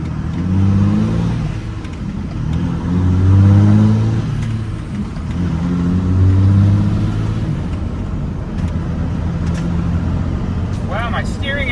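A 2003 Cummins diesel pickup truck with high mileage drives on a test drive, its low engine drone rising and falling through several surges of throttle, with a voice talking over it.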